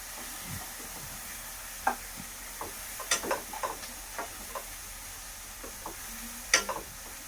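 Green chilies sautéed for a village-style spicy egg chutney, with soft sizzling under scattered light taps and scrapes of a spoon stirring the pan, fairly quiet and intermittent.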